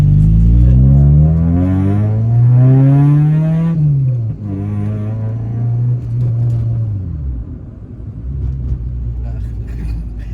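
Loud Honda Civic EG6 D16 engine revving up and dropping back, a strong harmonic drone rising then falling through the aftermarket exhaust, close to the microphone.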